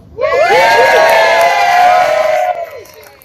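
A crowd at a fundraiser celebration bursts into loud cheering, with children's high-pitched shouts and whoops. The noise swells quickly, holds for about two seconds, then fades.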